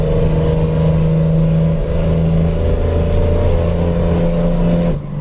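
A heavy truck with an 18-speed gearbox, driven in a truck simulator game, holds a loud, steady engine drone that shifts pitch slightly as it moves through the gears, then drops off abruptly at the end.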